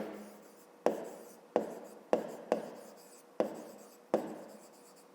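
Pen or chalk strokes writing an answer by hand for a grade 5 maths exercise, a series of sharp taps followed by short scratchy strokes, close and steady with no talk.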